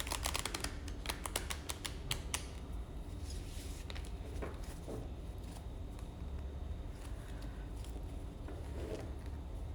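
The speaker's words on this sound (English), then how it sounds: "So let's just shuffle the deck a little." A tarot card deck being shuffled by hand, giving a rapid run of crisp riffling clicks early on that thins into softer, scattered card rustles over a steady low background hum, with no talking.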